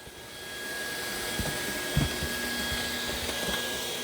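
A Shark PowerDetect stick vacuum's motor runs with a steady, close whirring hum and a faint high whine. It carries on evenly throughout, with a couple of small knocks.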